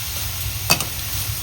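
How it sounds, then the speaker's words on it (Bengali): Grated beetroot and onion fry in a pan, giving a steady close hiss of sizzling, broken once by a brief scrape or clatter of stirring midway through. "আমি গ্রেট করা এই যে বিটটা দিয়ে এই যে ভাজা ভাজা করে নিচ্ছি"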